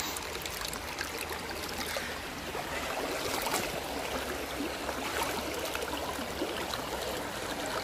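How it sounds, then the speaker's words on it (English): River water running and trickling in a steady, continuous wash of rushing sound, close by and unbroken throughout. "hear the water running"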